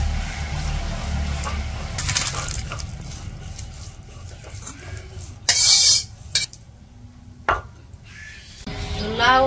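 Metal pot and utensil clatter as a bottle gourd and shrimp curry is taken off a kitchen stove, with scraping, knocks and a couple of loud clanks over a steady burner hiss.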